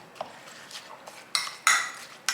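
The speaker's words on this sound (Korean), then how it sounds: "아까 썰어놨던 양파, 고추 이렇게 섞어주시면 됩니다" A spoon stirs chopped onion and chili into a seasoning paste for perilla-leaf kimchi in a bowl. Soft scrapes and a few sharper metallic clinks come close and irregular, with no talking.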